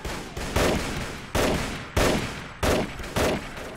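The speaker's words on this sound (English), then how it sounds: "let's switch back to my machine gun" A machine gun in the Red Wars mod for Mount & Blade Warband fires in short, sharp bursts, about half a dozen loud, close volleys spaced fairly evenly.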